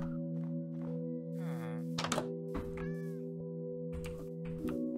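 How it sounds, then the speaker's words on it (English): A cat in a Minecraft hardcore game gives several short meows close by over steady sustained background tones, with an occasional dull thunk between the cries. "I hear a kitty cat."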